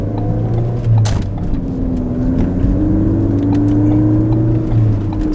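A Ford Focus ST engine idles steadily after a Ford Performance calibration, a low continuous hum at reduced RPM with a slight rise and fall, close and alone.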